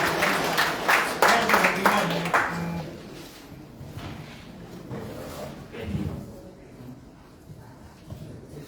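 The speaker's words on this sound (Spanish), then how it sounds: "Fuertes aplausos" An indoor audience at a regional interprovincial transport forum in Moquegua claps loudly for a couple of seconds, then the applause thins into scattered taps and room noise.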